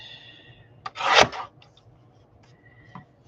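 Paper being trimmed for a handmade journal: a single brief rasping cut swells and fades over about half a second, with a couple of small taps and rustles around it, close and fairly quiet.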